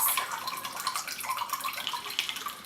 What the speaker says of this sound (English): then we're just gonna pour this into our glass